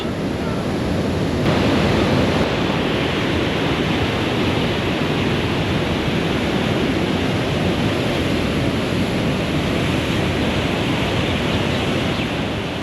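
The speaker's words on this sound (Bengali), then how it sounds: "একটা খুলে দিয়েছে, একটা দিয়ে এত জল যাচ্ছে, আর এরকম আওয়াজ।" Water rushing through a single open sluice gate of a dam roars as a loud, steady, broadband torrent, unbroken and close, with a faint wind-like hiss layered over it.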